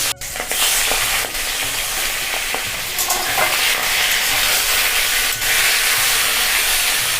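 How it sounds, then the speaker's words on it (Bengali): Catla fish fries in hot mustard oil with a loud, steady, close sizzle and hiss that runs throughout. Occasional sharp crackles and pops rise above the frying. "সরষের তেল দিচ্ছি। তেলটা গরম হয়ে গেছে, মাছগুলো এবারে ভেজে নেব।"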